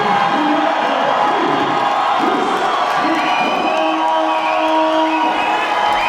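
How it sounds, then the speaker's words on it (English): A lively crowd cheers and whoops at an amateur cage fighting event, a loud continuous roar with shouted voices and whistles rising above it throughout. "This crowd is rolling already"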